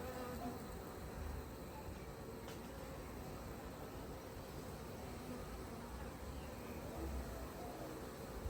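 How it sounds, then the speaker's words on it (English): Honeybees (Apis mellifera) at a new hive make a steady, dense buzzing hum, faint and continuous throughout with no voices over it. "So the bees are lovely and docile, is that the word? Calm."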